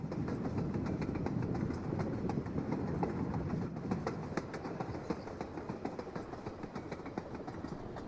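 In Stardew Valley, a moving train rolls along with steady clickety-clack wheel rhythm over a continuous rumbling bed, a fairly constant sound throughout.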